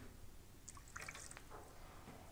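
Chinese oolong tea trickles and drips as it is poured into a transparent cup, a soft brief splash of liquid with a few light drips over a quiet background.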